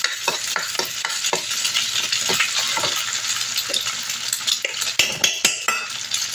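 Hotdog pieces being stirred into fried garlic rice in a sizzling pan, with a steady run of utensil scrapes and taps against the metal over a continuous frying hiss, close and fairly loud.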